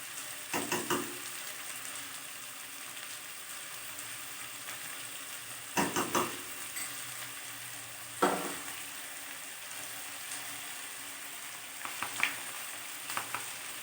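Mutton for mutton chana masala fries in a pan with salt and turmeric, a low steady sizzle broken by a few sharp stirring scrapes and clatters spaced across the stretch.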